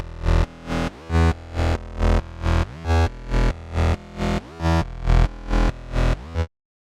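A thick bass synth patch on Zebra 2 pumps rhythmically under sidechain compression triggered by a kick drum, swelling and ducking in a steady loud beat of about two pulses per second before stopping abruptly.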